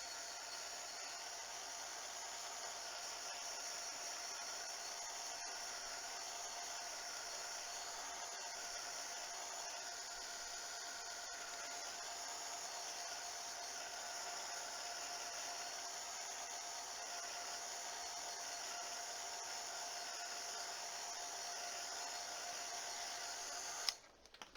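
A heat dryer blows steadily on a mixed media card for a cardinal painting, a continuous loud whirring hum that holds unbroken for the whole stretch before cutting off abruptly at the end.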